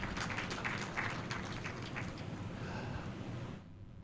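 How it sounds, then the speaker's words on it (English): Applause from the audience at the 2024 Public Finance Management Conference closing ceremony, a faint and fairly distant steady patter of many hands that stops abruptly near the end. "Let's give them a huge round of applause."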